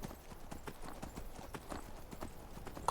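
Horse hooves clip-clop in a steady, brisk rhythm in Skyrim, the fantasy video game, with the evenly spaced footfalls continuing at a moderate level throughout.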